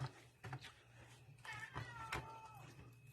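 A house cat meows a few times in the background at home, soft, drawn-out calls rising and falling, moderately distant with quiet room noise.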